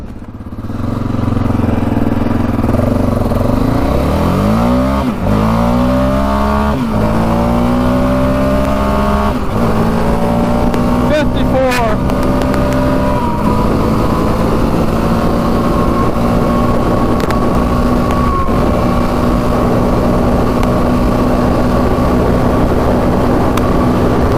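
A Yamaha Raptor 700 quad racing at full throttle on a top speed run, its loud, close engine climbing in pitch through several rapid gear changes, then holding a steady high drone for a long stretch, with wind noise throughout.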